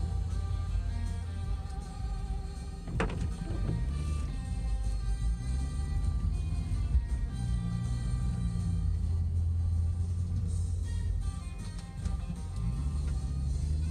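Car ride from a condo down to the beach, a quiet continuous low rumble of engine and road noise lasting throughout, with a brief sharp knock partway through.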